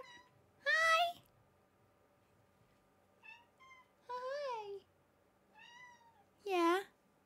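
A cat meows in the Minecraft video game, several distinct rising-falling cries spaced apart over a quiet background, fairly clear and close.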